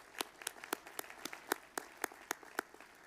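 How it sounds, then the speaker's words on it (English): Applause from the audience at the Delaware Valley University 2024 commencement ceremony, a thin scatter of separate hand claps with an uneven rhythm, moderately close. "A round of applause."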